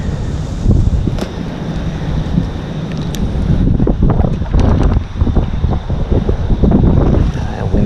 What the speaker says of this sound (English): That wind's starting to pick up though.